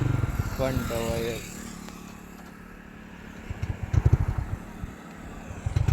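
A motorcycle engine idles and then revs in a quick run of rough throttle bursts, close by, after a person talks briefly at the start.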